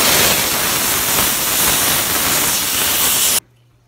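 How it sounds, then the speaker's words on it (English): Steam cleaner blasting the underside of an HP 950 inkjet printhead, a loud continuous broadband hiss that runs steadily and then cuts off abruptly near the end, leaving near silence. "steam cleaning the bottom of the printhead"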